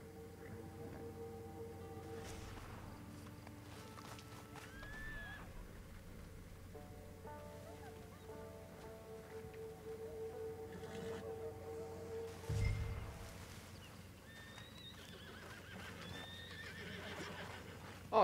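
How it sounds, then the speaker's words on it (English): Horses in the Red Dead Online video game whinny a few times over a low, quiet ambient bed, with scattered soft hoof clip-clops and a brief louder thump partway through, fairly faint overall. "No, those are just the horses."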